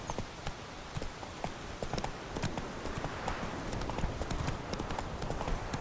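Horse galloping in The Witcher 3: Wild Hunt video game, a steady rapid clip-clop of hooves throughout at moderate loudness, without speech.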